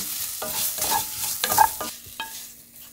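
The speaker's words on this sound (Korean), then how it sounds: "그러면 이때서부터는 불을 약불로 줄여주세요. 그리고 계속 볶으세요." Onions are stirred in a pan over low heat, with a spatula scraping and clacking against the metal in a few quick strokes above a soft, steady sizzle.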